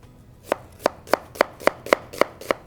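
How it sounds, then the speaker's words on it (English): A knife chops onions small on a board for pumpkin stew, with nine crisp, evenly spaced strokes at a steady rhythm, close and clear with no talking. "So with our onions, you wanna cut them all pretty small."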